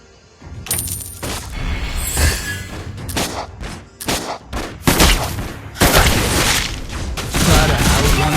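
Gunfire in the mobile shooter Klin: dense bursts of loud, rapid shots and booms crowd together over game music and effects, with repeated heavy impacts across the whole stretch.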